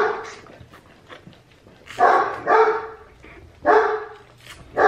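A newborn Great Dane puppy at a litter delivery gives several loud, close squealing yelps and whimpers in short bursts, with a woman's soft, cooing talk heard quietly between the cries.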